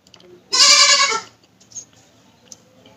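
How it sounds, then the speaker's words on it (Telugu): A goat kid gives a single loud, close bleat of about half a second, followed by faint background rustles and quiet. "మేకపిల్ల ఎక్కడ వచ్చింది"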